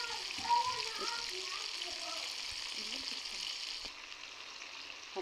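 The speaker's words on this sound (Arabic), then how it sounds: "اقلبها على الجنب التاني علشان يتشوح كده معايا الثوم واللورا والحبهان" Steak sears in a pan with garlic, bay leaf and cardamom, a steady close sizzle and frying hiss running throughout while someone talks over it.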